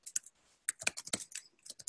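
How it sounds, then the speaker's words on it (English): Typing on a computer keyboard: quick, irregular clusters of light key clicks, close and fairly quiet, with a short pause in the middle and no speech. "Okay, I'm typing in my text."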